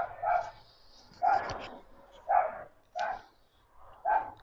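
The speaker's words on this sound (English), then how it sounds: "Apologies again for the dog barking" A dog barks close by in a home setting, five sharp barks spaced roughly a second apart with brief quiet gaps between them.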